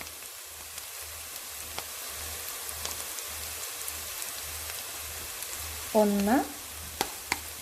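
Ginger garlic paste frying with onions in a pan, a faint steady sizzle with soft stirring clicks running beneath a speaking voice.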